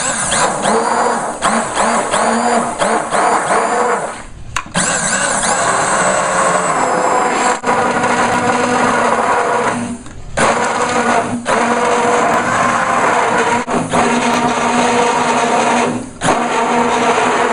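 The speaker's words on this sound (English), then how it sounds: "I'll take the blender" A blender mixing protein pudding over a sink runs loud and steady for most of the clip, its whirring motor dropping out briefly a few times as it is paused and restarted.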